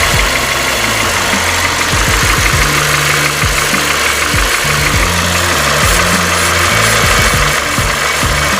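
A Skoda Octavia A5 engine with a coolant leak runs loud and close at a steady idle, with a regular knocking pulse under the drone.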